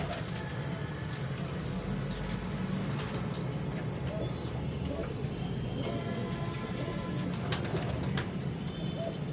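Domestic pigeons of the 35 breed, slate-grey birds kept by a fancier, give soft repeated coos with occasional wing flaps over a steady hum of background noise, with someone talking faintly nearby.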